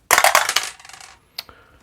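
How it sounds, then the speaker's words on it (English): A die rolled during a tabletop game of Bios:Genesis clatters across the table in a quick burst of hard rattling hits, then a single sharp tap as it settles, close and alone with no talk. "The yellow cube allows for a reroll of 1 dice."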